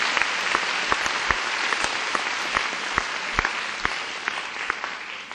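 Steady audience applause fills a mock job interview session at a Korean university, dense clapping from a room of listeners with a few sharper claps standing out, continuous and fairly loud throughout, with no talking over it.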